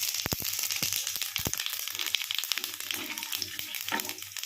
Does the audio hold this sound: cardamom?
yes